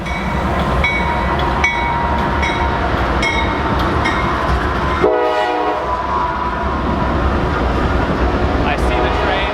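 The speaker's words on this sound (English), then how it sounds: "You're gonna see a train go by." A loud train rumbles by close up while its horn blasts repeatedly, short honks followed by a longer sustained blast midway.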